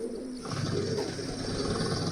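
Racing pigeons coo in soft, low throaty calls against a steady background hum, the cooing swelling after a short quiet start and continuing close by.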